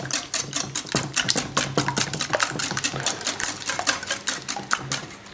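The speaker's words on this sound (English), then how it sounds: "Just going to give that nice little whisk there." A whisk beats caster sugar in a bowl, a fast, steady rattling and clicking that runs continuously and close up, with no talk over it.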